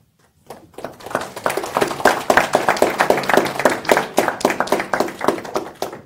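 Audience clapping at a political speech, a steady burst of many hands that builds quickly after a brief quiet start and holds fairly loud for several seconds.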